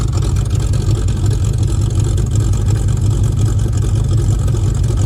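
A V8 engine in a Dodge VK ute, warmed up and recently fitted with a radiator, runs at a steady idle with a loud, continuous low rumble throughout, with no voices.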